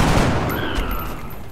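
Rapid burst of gunfire from a turn-based tactical video game, XCOM: Enemy Unknown, loud and dense, with overlapping shots sounding like a short fusillade and no talking.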